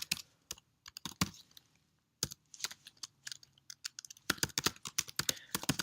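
Someone types on a computer keyboard while creating a website account, in bursts of close, crisp key clicks separated by short pauses, with a faster flurry at the end.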